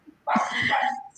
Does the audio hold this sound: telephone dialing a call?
no